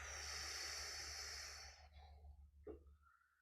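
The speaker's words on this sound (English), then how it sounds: "breathe it out down into the belly" A slow, deliberate breath is released down into the belly during a guided meditation, a soft airy exhale that fades into quiet, followed by a brief nasal puff of air.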